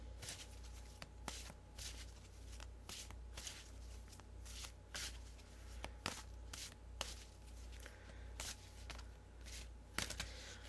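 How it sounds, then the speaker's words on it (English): Angel cards are shuffled close up, a steady run of quick riffling and soft slapping bursts, quiet and without talking. "we're going to shuffle them"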